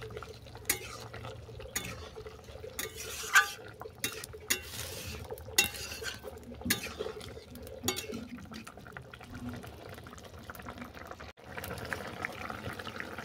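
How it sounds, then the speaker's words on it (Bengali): White mustard paste being stirred into a fish and turnip broth in a pot, with soft wet swishing and light utensil scrapes and clinks repeating steadily throughout, close and fairly quiet. "সরষেটাকে ভালো করে মিশিয়ে নিচ্ছি"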